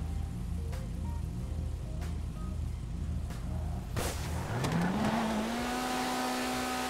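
A Chevrolet Camaro in GTA 5 launches hard from a low rumble: the engine note suddenly surges and climbs into a loud rising whine, then holds a high steady tone, over a constant rain-like hiss.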